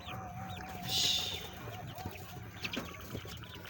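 Chickens cluck in a farmyard, with soft, scattered calls and a brief louder squawk over a low steady background murmur.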